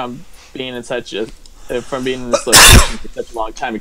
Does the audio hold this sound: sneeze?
yes